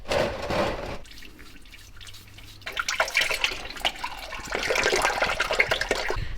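Engine oil drains out of the oil pan of a Mitsubishi Evo VIII, a close liquid splatter that drops to a quieter trickle, then grows into a heavier, busier stream with drips, no talking.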